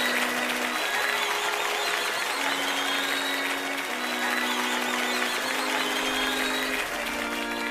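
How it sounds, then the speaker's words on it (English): Crowd cheering in the video game Umineko, a continuous roar of voices and clapping layered over steady musical tones, even and unbroken across the whole stretch. "There's a lot of cheering going on."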